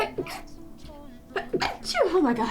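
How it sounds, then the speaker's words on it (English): A person sneezes during a casual chat while making cloisonne enamel art, a short sharp burst amid voices and an exclamation nearby. "Apparently I am a fan of sneezing only twice today."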